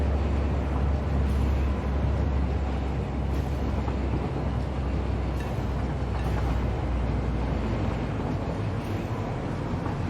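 A train ride in the factory-building game Satisfactory produces a steady, low rumbling drone with a constant rolling roar that holds evenly throughout and has no distinct clicks or horn.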